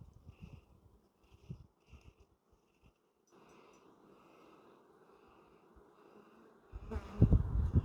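Honey bees buzz around an open hive frame stacked with bee bread and pollen, a faint, intermittent drone broken by soft handling bumps, then a louder, closer rustle near the end.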